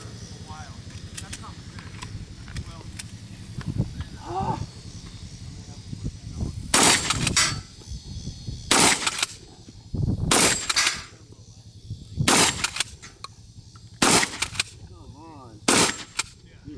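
Shotgun blasts ring out one at a time at an outdoor competitive shooting stage, about half a dozen loud sharp reports spaced a second or two apart, with people talking in the background between shots.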